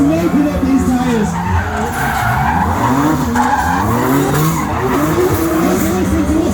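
Drift cars at a Doncaster racecourse motor show, with over 1,000 brake horsepower on track, scream on the rev limiter while smoking tyres squeal, a loud, continuous, close roar of wavering engine pitch with no break.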